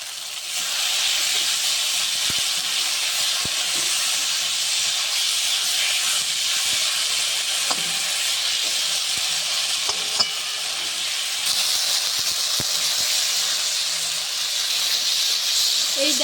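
Tomato sauce hisses and sizzles steadily in a hot pan, a loud, continuous frying hiss with a few faint clinks of stirring scattered through it and no talking.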